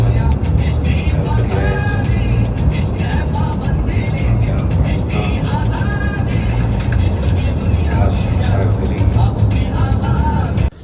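A car drives along a road toward a mall in Canada, a loud, close, steady low rumble of engine and tyres with a faint higher whine on top, unbroken for the whole stretch.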